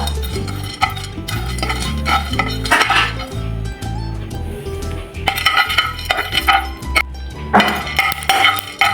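Ingredients for paneer pepper fry frying in a pan over a medium flame, with close spatula scrapes and metallic clinks against the pan over a light sizzle, and no voices.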